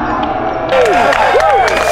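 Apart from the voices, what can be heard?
golf tournament crowd cheering after a putt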